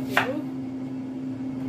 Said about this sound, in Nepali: म चाहिँ प्याज काट्दैछु साथीहरु